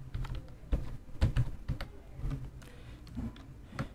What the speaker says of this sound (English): after typing the name that you want to change, you press the space bar and type the name